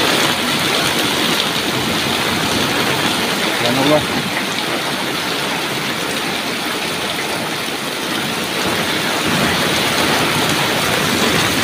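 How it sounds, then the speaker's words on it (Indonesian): Steady, dense rain roars throughout, a heavy downpour in a village near Cirebon, with a brief voice breaking through near the start. "derasnya air hujan ya."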